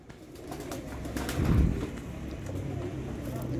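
Pure Ali breed pigeons coo softly nearby, low throaty calls rising to a fuller swell midway through against light background noise.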